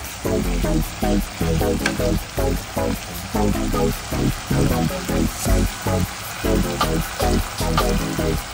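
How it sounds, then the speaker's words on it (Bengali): Onions frying in hot oil with whole garam masala: loud, pulsing sizzle and stirring in regular bursts, close up, with a background layer that may be music or voice. "সবার প্রথমে তেল গরম হলে গোটা গরম মশলার ফোড়ন দিয়ে পেঁয়াজটাকে ভালো করে ভেজে নিতে হবে।"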